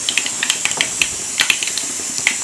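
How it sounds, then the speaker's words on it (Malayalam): Mustard seeds popping in a hot pan while cooking Kerala erissery, with sharp, irregular crackles scattered close up over a steady soft hiss, no voices. "കടുക് പൊട്ടി തുടങ്ങിയിട്ടുണ്ട്."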